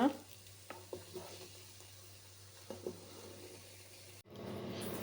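Herbal hair oil bubbling and frying in a pan on a stove, a steady, soft sizzle with a few light clinks of stirring, followed by a brief pause before the sizzle resumes.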